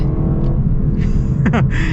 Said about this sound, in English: 5-liter V8 sounds so good.